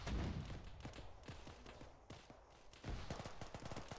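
A gun firing loaded rounds in an outdoor battle, a series of sharp, loud bangs spread irregularly across the clip over a rough, noisy background.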